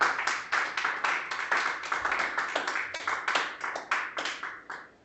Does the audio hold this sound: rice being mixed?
no